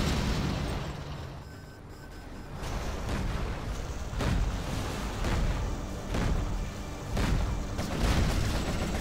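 Quad cannons fire in a real-time strategy battle over an oil rampage, a rapid run of booming blasts and bursts layered over dense, continuous battlefield noise.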